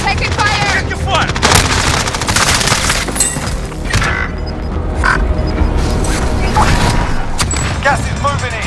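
Call of Duty Warzone battle royale on Rebirth Island: loud, continuous exchanges of automatic rifle fire and heavy booming impacts, with rapid crackling bursts layered over a dense, chaotic game mix and short radio-style voice lines.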